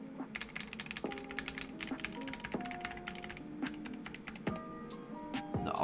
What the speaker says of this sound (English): So that is what the Apex Pro does sound like.